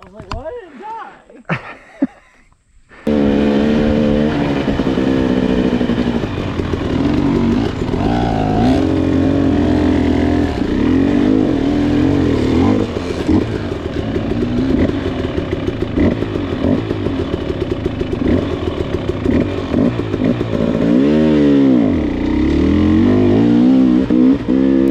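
KTM 300 XC two-stroke dirt bike riding off-road over rocky trails at Stony Lonesome in Bremen, Alabama: after a few seconds of quiet clatter the engine fires up loud and close, revving and bogging continuously, with pitch swings as the rider throttles.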